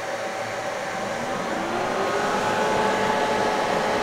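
Machine cooling fans spin up after power is switched on, a steady broadband whoosh that builds slightly in loudness over a few seconds with a faint rising whine, alone without talk.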